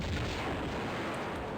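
A grenade detonates in a Tomb Raider game, a loud low boom at the start that fades into a dense rumbling tail over about a second and a half, with no talk.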